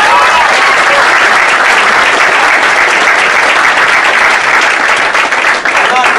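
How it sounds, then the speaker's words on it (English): Loud, dense applause from a packed room of rally-goers at a political event focused on Native rights, sustained and unbroken throughout, with cheering voices mixed into the clapping. "Give yourself a round of applause"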